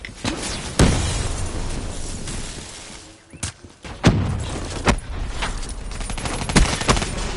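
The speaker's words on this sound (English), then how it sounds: "Incoming frag." A frag grenade goes off in Black Ops 3 amid continuous gunfire and loud in-game battle noise, with several sharp booming blasts punctuating the dense, steady din.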